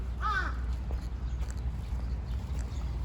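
A single crow caws once, clear and fairly close, in Hiroshima Peace Park, then fades into a steady outdoor hum with faint distant sounds.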